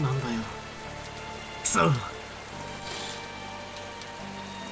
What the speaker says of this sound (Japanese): また雨か。